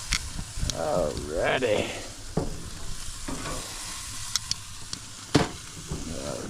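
Ribeye steaks sizzling on a grill with fat cooking and flaring, a steady hiss with scattered pops and clanks, close, while someone speaks briefly.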